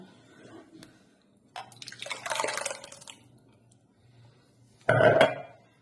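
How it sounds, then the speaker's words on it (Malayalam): Mango juice being stirred and poured into a vessel, with two separate bursts of wet sloshing and gurgling and a softer patch of liquid movement between them, close by. "നന്നായി ഒന്ന് ഇളക്കി പാത്രത്തിലേക്ക് മാറ്റുന്നുണ്ട്."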